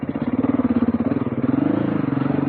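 A 2021 Beta 390 dirt bike engine with standard dual fuel injection runs steadily up close, its loud, even, pulsing idle note rising slightly partway through.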